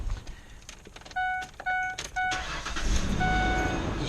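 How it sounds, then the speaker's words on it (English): A 2005 Ford Explorer 4.0 chimes with a few short electronic beeps, then the engine cranks and catches, settling into a steady close running rumble. "let me just start the car now"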